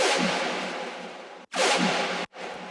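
A signature dubstep hit with a washed-out, reverberant bass character sounds in two loud, dense bursts, each cut off abruptly by a short silence before the next, followed by the start of a third.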